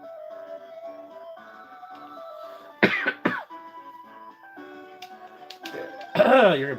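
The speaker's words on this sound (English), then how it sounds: "You're gonna be hearing me coughing a lot," A couple of sharp coughs break through soft background Sega Genesis game music from Castle of Illusion, with another rough cough-like burst near the end.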